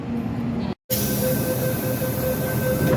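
Riding inside a train in Indonesia: a constant rolling rumble with faint steady squeal tones. A brief silent cut falls near the start, then the dense cabin noise resumes, with no talking.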